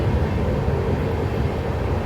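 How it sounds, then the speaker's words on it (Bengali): A train running past near a house: a steady, fairly loud low rumble with a broad roaring wash and no clear breaks. "যখনই আমি ভিডিও করব ট্রেন যাবে"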